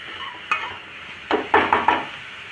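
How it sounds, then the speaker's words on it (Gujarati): Carrots sautéing in ghee in a pan for gajar halwa, heard as a steady soft sizzle with several close scraping stirs of a spoon against the pan. "તો આપણે એને 5 મિનિટ માટે ગાજરને ઘીમાં જ સાંતળી લેશું।"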